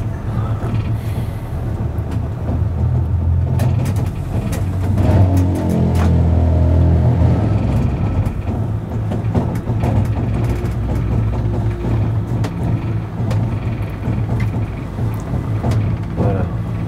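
From the driver's cab of an ABeh 2/6 7500 railcar on the Vevey–Blonay–Les Pléiades line, a steady mechanical running drone with rattling, clicking gear and wheel noises persists throughout, loud and close.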